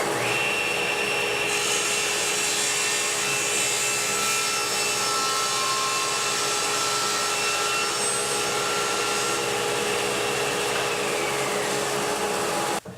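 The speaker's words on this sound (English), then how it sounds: "I'm just going to use my miter gauge first to square up the corner here, square up the board" A table saw cuts through a wooden board guided by a miter gauge, squaring up the end of a blank for an end grain cutting board; a loud, steady whine runs without a break, then cuts off at the very end.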